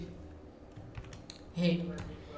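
A computer keyboard being typed on while HTML code is entered: a few soft, scattered keystrokes, quiet and close, with one slightly louder cluster of clicks near the end.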